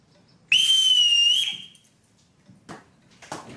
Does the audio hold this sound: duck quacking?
no